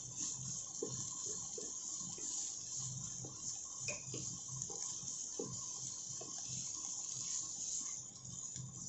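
A little water poured into a pan of sautéed beans while cooking, a steady close hiss and gush with soft sizzling and light clatters underneath.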